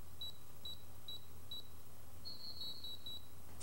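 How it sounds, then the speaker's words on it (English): An Ademco alarm system keypad gives confirmation beeps: four short, evenly spaced high tones, a pause, then a quicker run of beeps over a quiet room hum. "Status lights and beeps verify that the command you entered was carried out."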